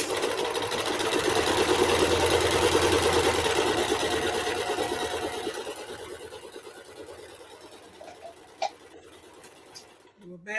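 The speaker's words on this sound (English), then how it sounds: "So we're gonna stitch, then do a back stitch." Sewing machine stitching a fabric hair scrunchie, running steadily for several seconds with a brief back stitch, then slowing and stopping before faint handling clicks near the end.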